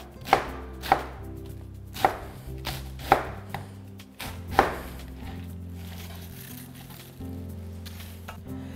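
A knife chops vegetables into roughly 2 cm pieces on a cutting board for a large-batch seafood rosé tteokbokki, giving about seven sharp, fairly close thumps at an uneven pace, with no talk.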